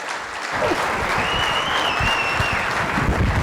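An audience applauds steadily at a business sales talk featuring Todd Duncan, a dense wash of clapping with a faint whistle above it, continuous and fairly loud throughout.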